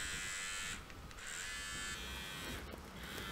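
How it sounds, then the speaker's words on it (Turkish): A Braun MGK7220 electric hair and beard trimmer running close by, a steady loud motor buzz that dips briefly in pitch and level as it is handled, with no talk. "Makinenin sesini de dinletelim bu arada."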